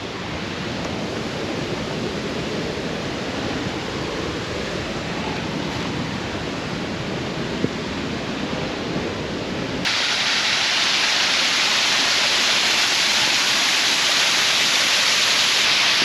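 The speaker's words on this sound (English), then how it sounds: "Just amazing waterfall." Steady roaring rush of a jungle waterfall near Just Amazing Falls along the Rogue River, a dense continuous wash of falling water that grows louder and brighter partway through, with no talking.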